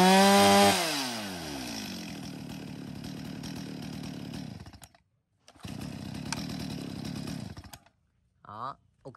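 A used Japanese chainsaw of a brand such as Stihl, Echo, Makita, Shindaiwa or Tanaka is started for a test, revving high and then idling in a loud, close buzz, cutting out, restarting and then stopping.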